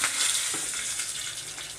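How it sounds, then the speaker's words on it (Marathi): Mustard seeds crackle and splutter in a spoonful of hot oil with asafoetida and curry leaves, a dense close sizzle with scattered pops, steady and alone. "इथे एक चमचाभर तेल घालून घेतलं आहे मी त्यामध्ये अर्धा चमचा राई घातली राई चांगली तडतडू देत"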